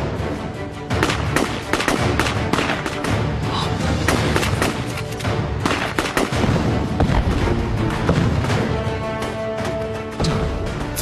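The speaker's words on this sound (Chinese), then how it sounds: "怎么回事？谁开了枪？" Gunfire in a Chinese war film set during the anti-Japanese war: a dense, loud fusillade of rifle and machine-gun shots cracking in rapid irregular bursts for over ten seconds, with booming echoes.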